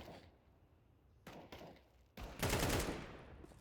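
Gunfire in the Counter-Strike video game: a quiet stretch, then a couple of sharp close shots followed by a loud burst that rings out and fades, with no talking.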